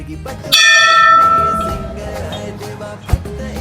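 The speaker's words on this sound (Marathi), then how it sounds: "आपण घंटा वाजवू आता." A single loud bell strike rings out with bright, sustained overtones that slowly fade, followed by a faint thump near the end.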